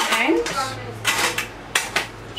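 The clip on a pressure cooker lid is worked open and shut, giving a few sharp metallic clacks and rattles up close, with short pauses between them and a quiet voice briefly underneath.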